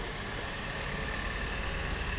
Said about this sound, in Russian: Автомобиль завелся. Теперь он прогревает двигатель